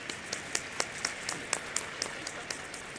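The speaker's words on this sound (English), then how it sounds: "I really want you to thank our panelists and give them a big round of applause" A conference audience at a main-stage tech event claps for a panel in a moderate, evenly spaced round of applause. Individual hand claps stand out clearly over a soft crowd wash, with no talking.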